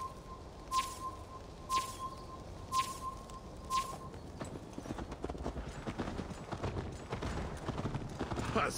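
Horse hooves in Assassin's Creed Valhalla, first a few spaced rhythmic clops with a ringing tone, then a faster continuous galloping patter of hoofbeats, moderately quiet with faint birdsong.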